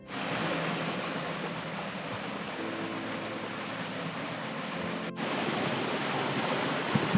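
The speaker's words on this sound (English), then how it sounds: "a lovely little jungle stream that winds its way down towards the ocean" Clean water of a small jungle stream on Rarotonga rushes steadily downhill toward the ocean, a dense, continuous broadband wash with no voices, holding an even level throughout.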